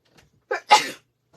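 One sharp, close sneeze with a short breathy intake before it, otherwise quiet.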